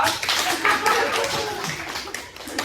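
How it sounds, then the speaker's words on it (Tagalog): A classroom of students claps together after a correct answer in a language lesson, a brief burst of uneven hand claps mixed with some chatter and voices, fairly close and steady for a few seconds. "Palakpak po tayo."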